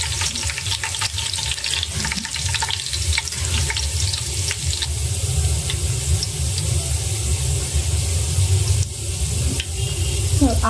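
Onions fry in a pan with a steady, loud sizzle and hiss that runs unbroken throughout, with occasional stirring scrapes and no talking.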